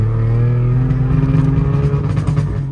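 A 1992 Saab car engine revs on a ride-along, droning harmonic tone rising and falling with crackling exhaust pops between slow gear shifts, loud and close with no talk.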